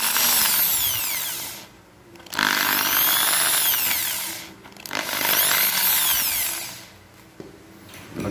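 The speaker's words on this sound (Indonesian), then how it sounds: "Untuk tripodnya saya bor." A power drill whines through a tripod in two long bursts separated by a brief pause, loud and close, its pitch rising and falling as it bites.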